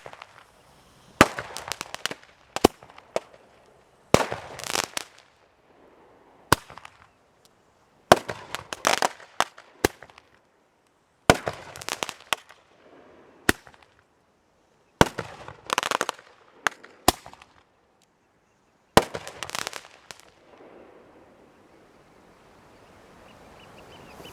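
A homemade grenade launcher fires lit rounds outdoors for Guy Fawkes Day, heard as a series of sharp loud bangs and crackling pops in irregular bursts, with quiet gaps and faint rustling between shots.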